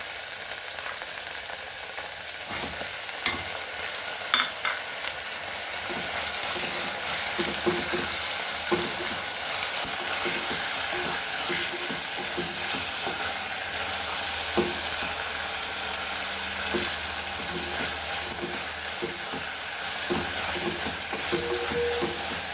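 Chopped tomato sizzling and frying in a pan while being stirred for a Goan cafreal potato dal, a steady crackling sizzle with intermittent scraping and clinking from the spoon, no talk.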